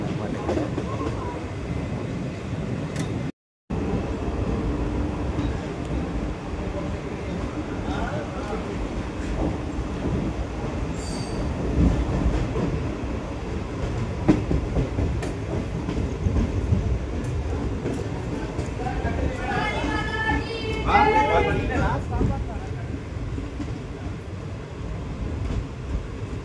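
The Guntur–Aurangabad Express rolls steadily along the rails with a loud, continuous rumble and rhythmic clatter, briefly cutting out early on, and a voice talks intermittently over the noise.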